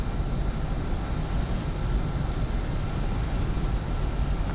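Continuous low rumbling roar of a jet aircraft on takeoff in the Ace Combat 7 combat flight game, loud and steady throughout with no voices.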